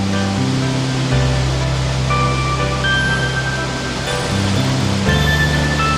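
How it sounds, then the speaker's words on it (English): Glacial meltwater of the Krimml Waterfalls on the Krimmler Ache in the Austrian Alps rushes down in a steady, loud, broadband roar, continuous throughout with no voices. "With its great masses of water that originate from the glaciers of the Großvenediger High Alps, the Krimmler Ache is an unforgettable sight."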